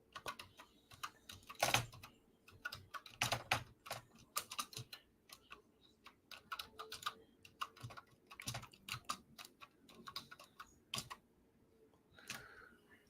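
Typing on a computer keyboard, close and dry, with bursts of rapid key clicks separated by short pauses over about thirteen seconds and no talking.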